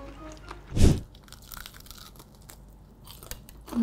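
Cornflake-coated barley prawns being bitten and chewed up close, with one loud crunch followed by quieter, irregular crunchy chewing.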